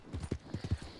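Horse hooves walking in Red Dead Redemption 2, a steady clip-clop of about six soft, close footfalls over a low background.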